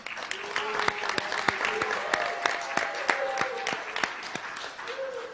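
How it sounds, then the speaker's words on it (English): Steady clapping from a crowd fills the room at the World Leader Summit 2022, with a faint tone running underneath. "So another round of applause for Dr. Hong."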